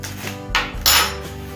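Batter of eggs, salt and pepper for minced-meat waffles gets whisked in a bowl, two quick scraping, clinking strokes of utensil against dish, close and fairly loud with no talk.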